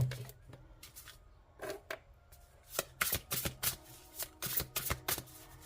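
Oracle cards being shuffled and drawn by hand, a quick series of crisp riffling and slapping card sounds, close and fairly soft, with quiet pauses between bursts.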